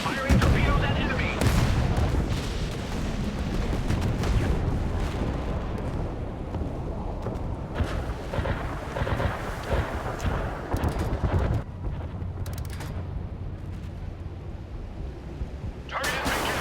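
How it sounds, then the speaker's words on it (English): Warship launching torpedoes during a naval battle in the Force of Warships video game, a dense run of booming shots and blasts under constant battle noise and music, with game voice lines over it. "Firing torpedoes at enemy."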